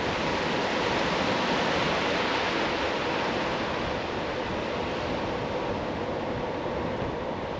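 A waterfall in a Fjord Norway valley roars as a loud, dense, unbroken rush of water that stays even throughout.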